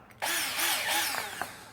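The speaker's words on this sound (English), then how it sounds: "I got a wood drill here" Wood drill boring into wood, close and continuous, with a whirring motor whine that shifts slightly in pitch as the bit bites, running alone for under two seconds.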